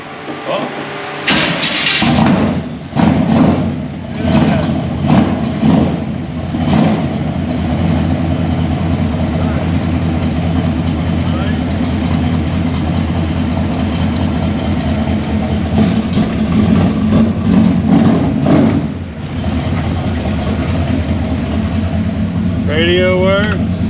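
A 1972 Chevy C20 truck engine cranks and catches, then settles into a steady, loud running rumble close by, with brief chirps and clicks over the top and a short voice near the end.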